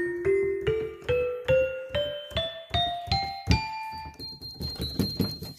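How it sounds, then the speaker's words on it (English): A tinkle bell rings in a rising sequence of about a dozen bright struck notes, each with a quick thunk and short ringing decay, close and clear, the last tones higher and sustained. "Oh, it's a tinkle bell."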